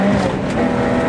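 Rally car at full throttle on a gravel special stage of the Lausitz Rallye near Reichwalde, a loud, steady engine roar held close throughout the short burst.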